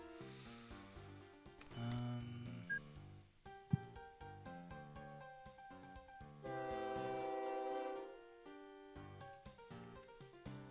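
A goods train in a video game rolls along with horn or whistle blasts among busy overlapping tonal game sounds, faint overall and continuous, with no voices.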